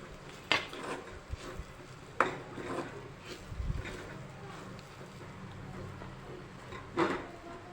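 Green pigeon pea kachori filling being mixed with lemon juice and a little sugar in a bowl: a spoon scrapes and knocks against the bowl in a few sharp, spaced clinks over soft rustling, close by and with no talking.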